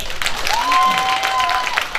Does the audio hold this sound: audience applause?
yes